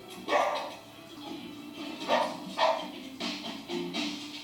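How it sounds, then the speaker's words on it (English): A small bichon dog barks several times in short yapping bursts, fairly faint and a little distant, within an indoor scene. "Oh, what bichon!"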